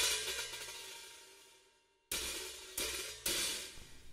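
A slosh hi-hat sample from a Kontakt drum library: a long washy cymbal decay fading out, then three separate bright, splashy hits, the last two following close together.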